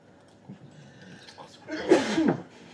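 A single sharp sneeze bursts out near the microphone after a quiet stretch with faint background noise.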